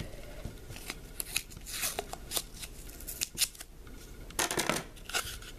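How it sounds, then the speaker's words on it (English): Strip of adhesive tape torn off a roll while building a cotton ball launcher for a science lab, giving several sharp, close ripping bursts in quick succession with no talking. "Rip it off and then put it another tape on the other side."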